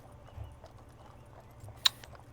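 Faint hoof clip-clops from a horse, soft scattered thuds at a distance, with a single sharp click near the end.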